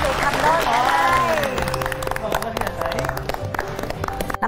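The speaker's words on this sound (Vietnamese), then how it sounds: "một tràng vỗ tay cho một cặp nhà đã được thành đôi ngày hôm nay" An audience gives a round of applause for a newly matched couple on a dating show, the clapping continuous and lively under a loud host's voice speaking over it, with crowd noise filling the room.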